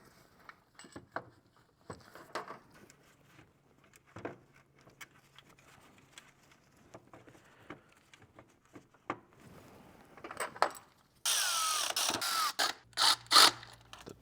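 Bolts are fastened while an alternator is installed on a BMW E70 X5 with the N52 engine. Quiet scattered clicks and taps of metal parts lead into a louder stretch of rapid ratcheting near the end.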